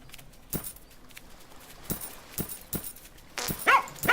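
Dogs in the farming video game Plantera give several short, sharp barks spaced through the clip, some louder and closer near the end, over a quiet game background.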